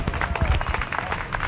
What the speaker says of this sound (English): You can hear the parade viewers applauding